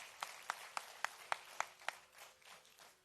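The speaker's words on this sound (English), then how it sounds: "a huge round of applause for these incredible artists" A short burst of audience clapping at a Kathak dance debut: several sharp, evenly spaced claps, then a softer scattered patter fading out, fairly quiet.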